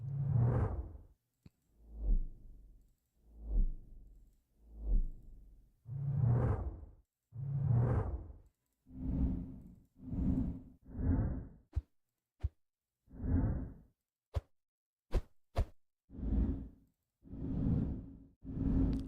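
A series of short whoosh sound effects for a Unity game ability are auditioned one after another, each a brief rising and falling swish, separated by short gaps and a few sharp clicks.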